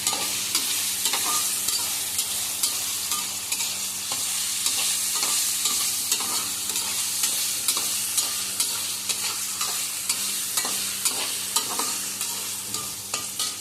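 Paneer gravy masala frying in a pan while being stirred: a dense, continuous sizzle with steady scraping and stirring strokes running close and loud throughout, with no voices.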